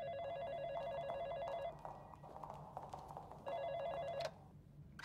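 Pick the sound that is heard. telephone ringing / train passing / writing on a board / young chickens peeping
telephone ringing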